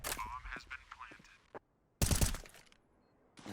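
Gunfire crackles in Counter-Strike during a pro esports match: a loud burst of shots, a short silence, then another sharp volley. Excited commentary runs underneath.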